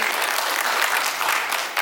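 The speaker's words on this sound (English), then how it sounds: "can we take a moment and clap it up for our campers?" A crowd claps for the campers at a county sheriff's office agreement signing in Orangeburg, a dense, steady burst of applause that fills the whole moment without pause.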